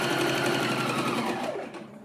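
A sewing machine runs steadily while stitching a slip dress, a close, continuous whirring hum that slows and fades near the end.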